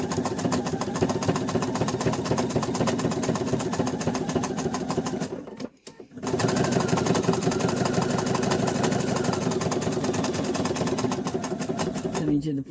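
A sewing machine satin stitches an angel applique, its fast, even mechanical whirr loud and close, stopping briefly for a pivot at a sharp point before resuming steadily.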